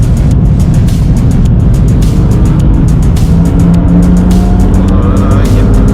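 A BMW M2 passes on the right during a track day at Magny-Cours, heard as steady, loud engine roar and road noise from inside a car, with a rising tone as it goes by and no talk.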